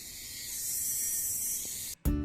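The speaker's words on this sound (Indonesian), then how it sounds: "ini lagi hujan, gerimis" Light drizzle falls outdoors, a soft, steady hiss that holds evenly for about two seconds before a sharp break and a louder rustle at the end.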